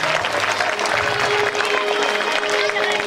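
Schoolchildren clapping together in rhythm as a chorus during a Padi Puja devotional song at a high school, dense and steady applause throughout with a crowd murmur underneath.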